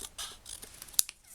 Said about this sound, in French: je vais hop là, couper une petite bande verte là